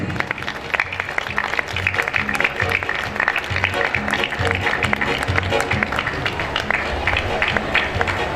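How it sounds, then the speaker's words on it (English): A school campus audience gives a big round of applause during a memento presentation: dense, sustained clapping from many hands, loud and close, continuing steadily for over eight seconds with crowd murmur mixed in. "Let's have a big round of claps,"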